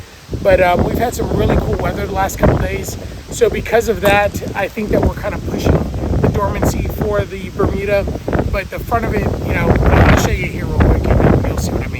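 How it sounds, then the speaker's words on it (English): Someone talks outdoors on a lawn while gusty wind buffets the microphone, producing low rumbling bursts under his voice. "It's really windy, so I apologize for the wind."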